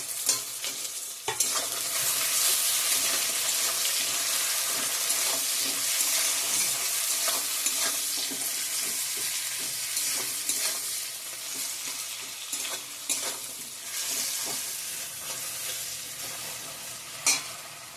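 Onions fried to light brown, with chopped tomatoes added, sizzle loudly and continuously in a pan, broken by occasional scraping stirs of a utensil and no talk.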